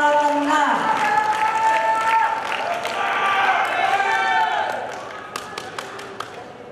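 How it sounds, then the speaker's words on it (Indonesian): Audience applause for the Central Java team at the national final of a legal-awareness quiz competition, a dense sustained clapping that fades after about five seconds into a few scattered claps, with a voice and tonal sounds over the start. "tepuk tangan untuk kelompok"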